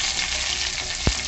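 Curry leaves hit hot oil with browned onions in a pan for a millet pulao. A dense, close sizzle runs throughout, with one sharp thump or clatter near the end and no voices.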